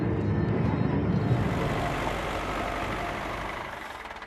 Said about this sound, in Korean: 누가 트랙터를 몰고 자신들에게 다가오는 것을 발견한 스펜서